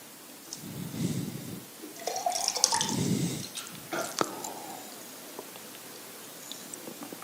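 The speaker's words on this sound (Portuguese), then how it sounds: "o titio vai beber um gole d'água aqui." A person drinking a sip of water: a few close, soft gulps and wet swallowing sounds with small liquid clicks in an otherwise quiet indoor space.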